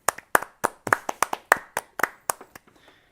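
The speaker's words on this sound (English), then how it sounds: "Can we at least give a round of applause for Brett real quick?" A few people clapping briefly in a small room, a dozen or so distinct sharp claps in an uneven rhythm that taper off into quiet.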